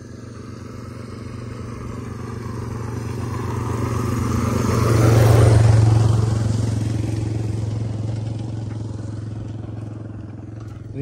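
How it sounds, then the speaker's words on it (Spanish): A motorcycle approaches from a distance, its engine growing louder as it passes close by, then fading away again. "Ahí viene una moto, miren."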